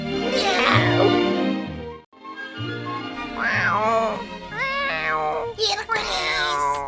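A voice imitates a cat with several drawn-out, wavering meows, loud and close, broken by a short pause partway through, in a spoken Ilocano story setting.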